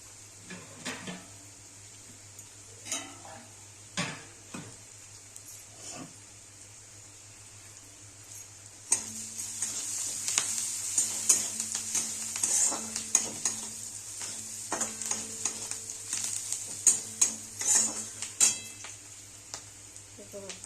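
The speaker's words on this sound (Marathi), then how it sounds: "कांदा आता जरा भाजला आहे लाल रंगावर असा" Onion frying in a pan for a chakli curry, intermittent spoon stirring and clinks at first, then a louder steady sizzle with scraping strokes, over a low background hum.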